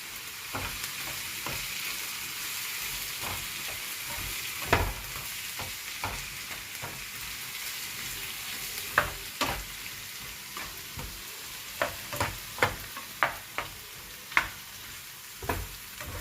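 Shakshuka sizzles steadily in a frying pan while a utensil stirs it, scraping and clacking against the pan at irregular intervals, close and moderately loud with no talk.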